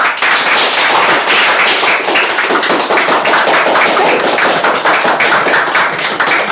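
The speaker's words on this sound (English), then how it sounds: "let's applaud the end of her speech" An audience at a Toastmasters humorous speech contest meeting applauds at the close of a contestant's speech. Dense, loud, steady clapping runs throughout with no voices over it.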